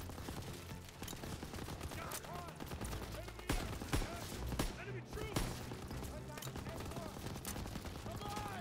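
Soldiers lay down rapid rifle and machine-gun fire on an MG nest in Call of Duty WW2, dense overlapping shots crackling continuously amid a loud battle, with shouted voices mixed in.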